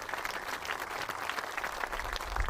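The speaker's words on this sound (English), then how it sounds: "give them a round of applause for all of their hard work" Outdoor applause from a crowd at a project event on a cleaned-up brownfield site, a continuous moderate patter of clapping with some low rumble, no voices.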